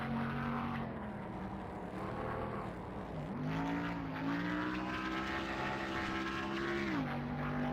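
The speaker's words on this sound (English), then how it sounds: "Love a good downshift into third gear." Simulated NASCAR stock car engine in NASCAR Thunder 2003 drops pitch sharply on a downshift into third gear, then climbs again in a steady, loud, continuous drone before a second dip near the end.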